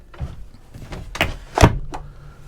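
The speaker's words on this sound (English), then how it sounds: "there are sliding doors like this one here, for example," Sliding interior door in a Carthago S Plus motorhome being pulled across and shut, with a rolling slide followed by a firm close and a softer knock, heard up close with no speech.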